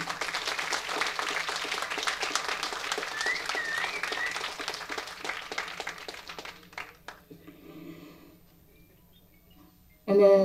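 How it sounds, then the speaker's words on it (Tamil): An audience at a film trailer launch event claps in a sustained round of applause for roughly seven seconds, with a voice talking over it, before the clapping fades away to near quiet. "நல்ல வலிக்க வலிக்க கைத்தட்டல் கொடுங்க."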